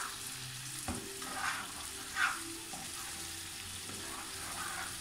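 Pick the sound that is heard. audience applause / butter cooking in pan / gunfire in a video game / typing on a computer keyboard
butter cooking in pan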